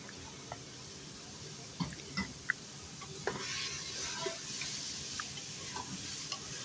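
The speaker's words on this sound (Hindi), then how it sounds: "तीन से 4 मिनट तक इसको टमाटर को इसको भुनाई करेंगे गोश्त के साथ।" Tomatoes and green chilies fry with mutton in a pan, a close, steady sizzle under repeated stirring scrapes and light clinks of a spoon.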